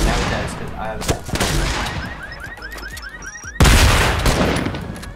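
Rapid gunfire in Fortnite, loud bursts of shots up close with metallic pinging impacts in between, then a heavy blast, with someone talking over it.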